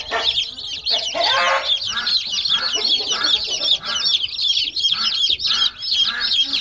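Many baby chicks huddled under a heat lamp on a market farm chirp in a dense, continuous, high-pitched chorus, close and loud, with overlapping peeps throughout.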